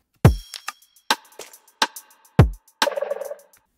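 Remix drum loop built from Minecraft samples, a sparse pattern of punchy kick-like thumps and short clicky hits with a brief noisy burst near the end, played alone and fairly loud.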